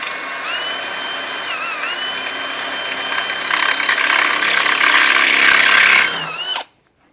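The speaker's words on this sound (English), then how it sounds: "Your first step is drill out these old rivets." Power drill boring out the old rivets on a Stihl light chainsaw bar tip, the bar resting on a sacrificial piece of wood; a steady, loud close-up whine that rises and roughens toward the end before cutting off abruptly.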